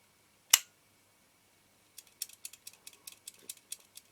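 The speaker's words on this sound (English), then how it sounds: "So advance the camera, the shutter, then press the shutter button." A Nikon F film camera fires a single sharp shutter release click, then after a pause gives a quick run of small ratcheting clicks as the film advance is wound, all close and quiet with no talking.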